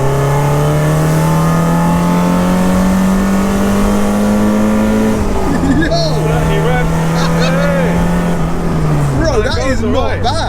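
A 1990s performance car with a modified exhaust revs hard, its engine pitch climbing and holding, then dropping and surging again, loud and close with a raspy edge while people talk over it.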